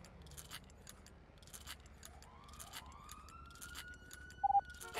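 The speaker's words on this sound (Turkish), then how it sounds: "Siren sesi var bu arada." A police siren sounds in the GTA V roleplay game, its wail rising and then holding at a steady pitch, moderately distant and faint under jangling clicks and rustling noises.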